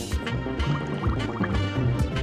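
Cartoon water splashes and trickles as it rinses soap off a letter, a close burst of pouring and dripping sounds with no talk over it.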